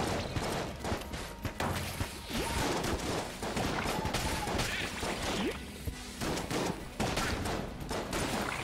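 Shots from the Icebreaker gun in the dungeon-crawler shooter Enter the Gungeon, repeated sharp cracks and bursts spread throughout amid busy game effects and music, with a voice talking alongside.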